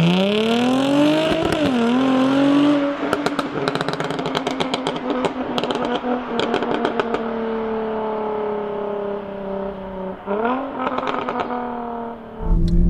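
A Jaguar F-Type V6S all-wheel-drive sports car revs its engine up and down, a loud, close growl that rises and falls in pitch. Sharp crackles and pops burst out between the revs.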